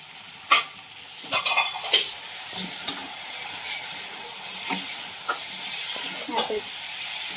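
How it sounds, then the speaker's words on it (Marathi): Chopped potatoes stir-fry in a hot pan with a steady sizzle, while a spatula scrapes and clatters against the metal in irregular strokes, close and fairly loud. "आता यात बटाटा जे चिरून घेतला ते टाकायचं आणि तो बटाटा पण नाही थोड्या परतू द्यायचा"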